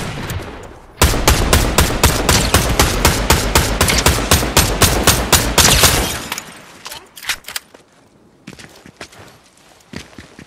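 Rapid automatic gunfire in a shooting video game, a long loud burst of evenly spaced shots at close range that stops abruptly, followed by scattered lighter impacts and footstep-like clatter.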